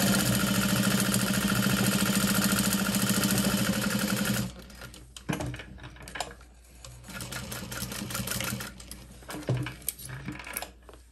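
A sewing machine runs steadily for about four seconds, stitching along the edge of a vinyl handbag, then stops, leaving scattered handling noises and rustles of the vinyl layers.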